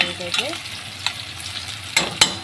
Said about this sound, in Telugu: పచ్చిమిర్చి కరాపాకు క్యాప్సికం ఉల్లిపాయ ముక్కలు ఇలా అయితే వేసాను ఇప్పుడైతే వేగిపోయింది అనమాట